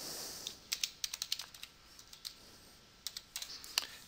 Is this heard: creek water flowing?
no